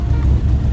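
A Triumph Daytona three-cylinder motorcycle engine, cold and not warmed up for days, runs with a loud, steady low rumble, close by with no talk.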